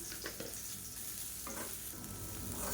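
Green beans frying in a pan, being stirred after turmeric powder goes in: a steady, close sizzle with scraping stir strokes throughout, no voices.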